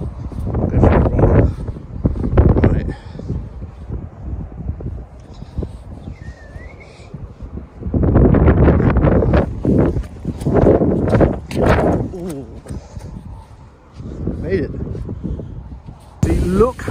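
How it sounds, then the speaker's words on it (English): Strong gusts of wind roar and buffet close to the microphone, rising and falling in loud waves with no one talking. "How windy it is."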